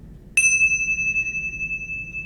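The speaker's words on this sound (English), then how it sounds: "The bell." A single bright bell strike opens a breathing meditation, ringing with a clear sustained metallic tone that slowly decays over about two seconds in a quiet room.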